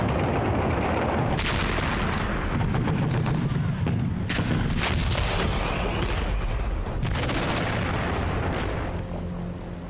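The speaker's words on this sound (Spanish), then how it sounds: "se produce una explosión" Archival World War II footage of the explosion at the Remagen bridge gives loud, repeated booming blasts and crackling gunfire-like bursts over a constant heavy roar.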